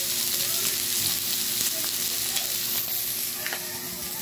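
Pork adobo frying in a pan, a steady close sizzle with the occasional light scrape of stirring and no talk.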